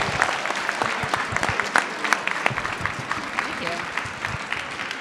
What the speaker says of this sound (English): Let's clap it up for